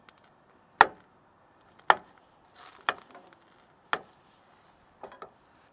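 Sausages are sliced on a small homemade wooden cutting board, five crisp knife chops spaced about a second apart, near and distinct against quiet surroundings.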